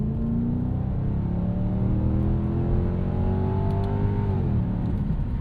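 A 1998 Lexus GS400 engine revs loudly and steadily, pitch climbing and sagging across a downshift without rev matching, a continuous close drone with no talking.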